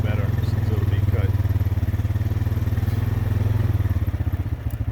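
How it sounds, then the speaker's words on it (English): A four-wheeler ATV engine runs steadily up close on a farm homestead, with a loud, even, throbbing low drone and some clattering and thumping over it for the whole stretch. "I'll get off this four-wheeler so we can see it."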